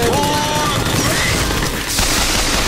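Rapid bursts of sci-fi energy cannon fire in a video game crackle and whine continuously, loud and close, with a brief dip before another surge of blasts.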